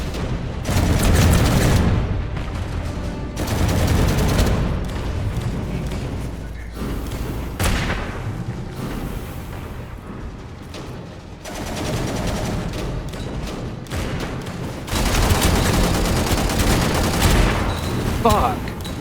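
Heavy battle din in the sci-fi shooter Angels Fall First, with a grenade launcher firing amid thumping blasts and bursts of gunfire, loud and continuous across the stretch, with background chatter mixed in.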